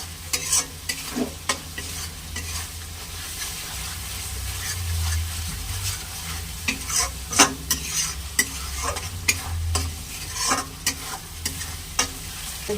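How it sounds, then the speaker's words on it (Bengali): Spice masala for a snakehead fish curry is stir-fried in a pan: a continuous sizzle broken by repeated scraping and knocking strokes of a spatula, steady and close, with no voices. "অনেকক্ষণ ধরে আমি কষাচ্ছি।"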